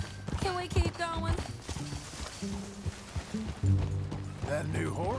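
Horses gallop at a steady clip in the Western video game Red Dead Redemption II, rhythmic hoofbeats running under a moody musical score and voices talking.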